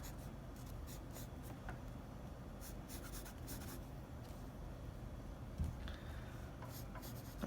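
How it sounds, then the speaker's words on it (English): Pencil lines drawn across a sketched palm on paper, a faint steady scratching that runs without a break and barely rises over the quiet room, with one brief soft bump near the end. "So I'm going to add some lines across the palm."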